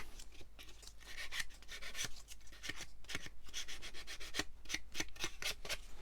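An emery board rubs back and forth along the edge of a wooden box in quick, rhythmic scratchy strokes, close and fairly quiet, with no talking.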